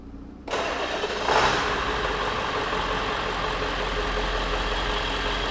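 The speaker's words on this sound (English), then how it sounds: "We want to start our engine." A car engine cranks and catches at once, then settles into a steady, fairly loud idle that holds for several seconds with no talking.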